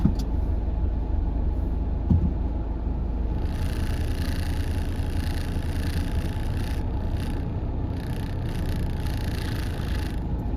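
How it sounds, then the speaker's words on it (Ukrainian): A car drives past behind the listener on a street in France, heard as a steady low rumble of engine and tire noise that holds through the whole stretch at moderate loudness, with no talk. "Так, там машина проїжджає ззаді."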